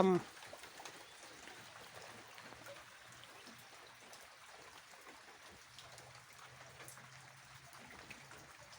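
Light drizzling rain on a cold day patters softly and steadily as a faint continuous hiss, with a low hum running beneath and a brief bump at the start.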